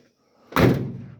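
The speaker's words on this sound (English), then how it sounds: "Well, at least the door closes and it sounds nice." Door of a 1952 Dodge B-3-D-126 flatbed truck swings shut with a single solid, close slam that rings out briefly.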